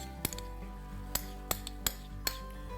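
Spoon clinking against a pan while tomato paste is stirred into vegetables for brown beef stock, several sharp metallic taps at uneven intervals over a low background hum.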